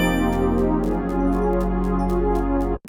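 A sustained piano chord rings out full and close, holding for nearly three seconds before cutting off abruptly.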